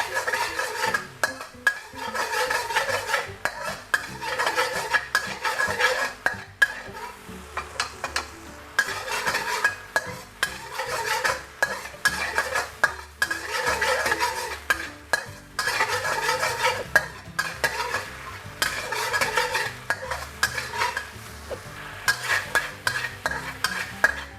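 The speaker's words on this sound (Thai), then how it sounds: "จากนั้นก็เปิดไฟกลางๆนะครับ เราจะเคี่ยวกะทินะครับ ให้มันแตกมันนะครับ" A spoon scrapes and stirs coconut milk repeatedly in a pan over medium heat, with a soft bubbling simmer and rhythmic strokes continuing close up with no talking.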